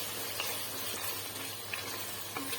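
Spices for a meat curry fry in a pan, a steady close hiss of sizzling oil with faint occasional pops, continuous and even throughout, no voices.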